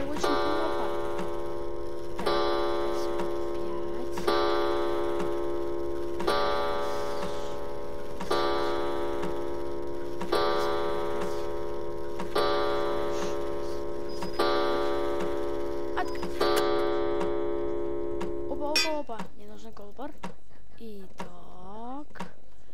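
A steady clock tick-tock in a stealth video game, with regular periodic beats under a sustained harmonic tone, running for most of the stretch before a sliding, warbling tone takes over near the end.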